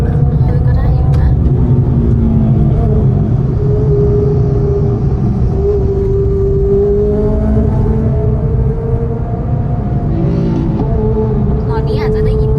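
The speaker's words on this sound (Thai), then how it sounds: "ตอนนี้อาจจะได้ยินเสียงเข้าไปใน ไมค์พอสมควรนะคะ เสียงท่อไอเสีย" A loud, steady engine rumble with rising and falling revs from a modified exhaust, heard close up with a voice talking over it.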